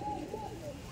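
A Giribaz pigeon, a male, gives a soft low coo, faint and close, against a quiet background.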